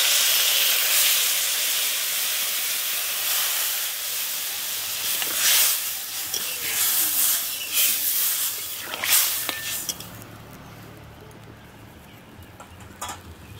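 Coconut milk poured into a hot pan of Sundarbans river crab curry gives off a strong steamy hiss that slowly fades and thins out to a quiet simmer.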